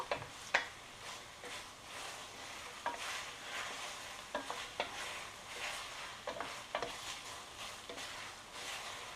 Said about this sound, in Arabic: هكذا نقليو البصل تاعنا، خلوا البصل تاعكم يتقلى